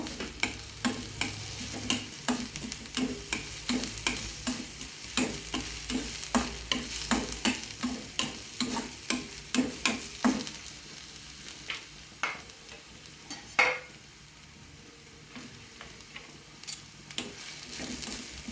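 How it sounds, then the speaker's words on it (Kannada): Chopped onion and small cut green chilies sizzle in a pan for palak paneer, with a quick, rhythmic series of spoon scrapes and taps over a low, steady frying hiss, no voices. "ಈಗ ಹಸಿಮೆಣಸು ಹಾಕ್ತಾಯಿದ್ದೀನಿ ಎರಡು ಸಣ್ಣ ಕಟ್ ಮಾಡಿ ಇಟ್ಕೊಂಡಿದ್ದು ಇದು ಒಂದು ನಿಮಿಷ ಫ್ರೈ ಆಗಬೇಕು"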